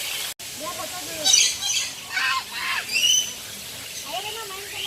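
Squawks and calls from birds at a bird park in Bali, several bursts rising over a steady background with people talking nearby.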